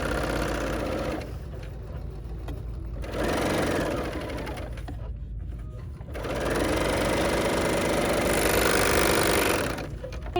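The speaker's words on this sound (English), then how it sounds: "now all I'm going to do is just serge the edge so that it doesn't have" Serger running along the edge of a fitted fabric face mask, a loud close mechanical whirring hum that runs in bursts with brief pauses between stitching passes, no talk.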